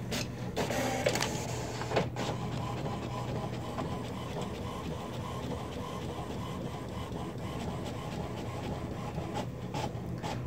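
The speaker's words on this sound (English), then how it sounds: "Coho, study the printer." A printer runs continuously, its mechanical whir and rhythmic feed noise steady throughout, with a few sharper clicks near the start.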